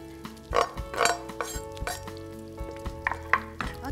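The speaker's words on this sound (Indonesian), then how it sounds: "dan kita akan aduk rata lagi" Eggs and spring onion sizzle in a frying pan while being stirred, with steady frying hiss and repeated scraping clinks of a utensil against the pan, close and without talk.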